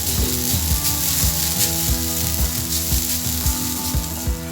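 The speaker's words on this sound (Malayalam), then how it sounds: "മീഡിയം ഫ്ലെയിമിൽ വേണം കേട്ടോ ഇത് വറുത്തെടുക്കാനായിട്ട്" Grated coconut roasting in a pan over a medium flame, a continuous sizzle broken by a quick, regular series of scraping stirs, close up and without talk.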